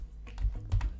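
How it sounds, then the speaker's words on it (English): A short run of keystrokes on a computer keyboard, a few quiet clicks in quick succession, close and alone without any voices. "you can just pretty much type in anything in here"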